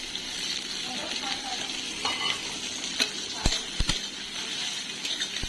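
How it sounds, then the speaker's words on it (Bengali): Prawns frying in a pan with onion and chilli give a steady sizzle, with scraping stirs and a few sharp metallic clinks of a spoon against the pan near the end. "এদিকে আমি অল্প করে পেঁয়াজ লঙ্কা দিয়ে চিংড়ি মাছ ভেজে নিচ্ছি"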